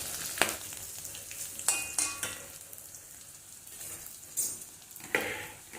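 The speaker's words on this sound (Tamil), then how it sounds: "பச்சை மிளகாய் கொஞ்சம் வதங்கினதுக்கப்புறம் இந்த வெங்காயம் நறுக்கினதை அதில் கொட்டணும்" Chopped onions drop into a pan of frying green chillies for a cauliflower fry, giving a sizzle with scattered clinks and stirring scrapes of utensils against the pan.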